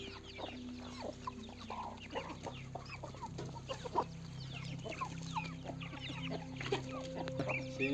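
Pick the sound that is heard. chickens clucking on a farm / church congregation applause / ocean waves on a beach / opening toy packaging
chickens clucking on a farm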